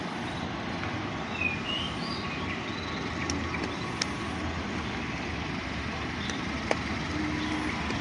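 A train hauled by a CC206 diesel locomotive passes near Manggarai station, a steady low rumble with faint clanks and distant traffic noise and no voices.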